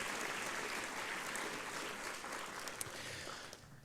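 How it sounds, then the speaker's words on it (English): A hall audience at a scholarship night gives a warm round of applause, steady fairly distant clapping that holds and then thins out toward the end. "Please give them all a warm round of applause."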